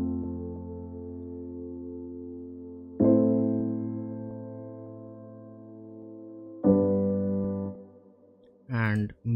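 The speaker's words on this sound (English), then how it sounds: "and piano sounds like this." A soft piano sound in an FL Studio melodic techno track plays three sustained chords, each struck cleanly and left to ring and fade, with a brief higher burst at the end.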